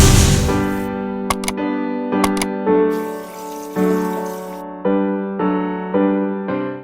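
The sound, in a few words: rinsing a whole raw turkey under running tap water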